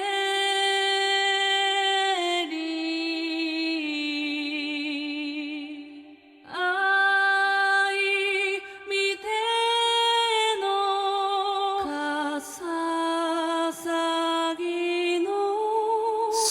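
Sampled sung vocal phrases from the Soundiron Voice of the Sun library, drenched in a huge Black Hole reverb, sustained choral-like tones shifting pitch phrase by phrase with long washing tails, loud and continuous with no talking.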